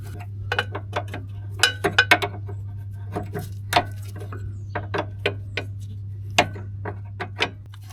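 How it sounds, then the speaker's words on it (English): 7mm spanner working a nut loose on a car anti-roll bar link of a Vauxhall Corsa, a scattering of light metallic ticks and clicks at irregular intervals over a steady low hum. "I'll just put the 7mm spanner on it again."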